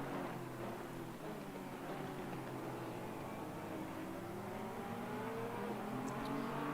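Engine of a pink Ferrari race car in a racing video game at Kyalami, a steady high whine with rising and falling gear pitch, sustained and moderately faint.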